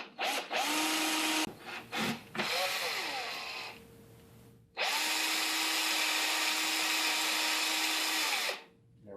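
A power drill bores holes in a scrap metal bracket, close and loud, whining in several short bursts before a long steady run, with pauses between.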